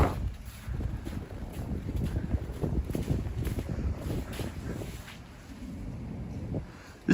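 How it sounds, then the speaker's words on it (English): Strong wind from a nor'easter snowstorm in Midtown Manhattan, New York City, buffets the microphone in steady low rumbling gusts, loud and continuous, easing slightly near the end. "the wind is picking up again"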